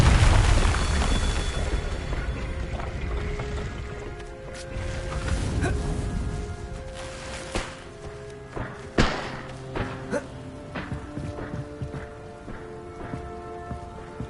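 Confringo blasting spell explosions in Hogwarts Legacy on PS5, a booming burst opening the moment followed by scattered thuds, cracks and debris clatter amid game music, with sharper impacts recurring later.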